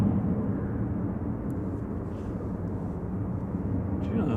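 A Ryanair Boeing 737-800 at Manchester Airport gives off a steady, distant engine roar, a faint, even rumble that holds throughout with no talk.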